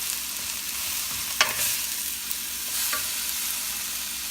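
Rice for tuysilog tossed and stir-fried in a hot pan, with a continuous close sizzle and a couple of sharp scrapes and knocks from a spatula as it is mixed, and no voices.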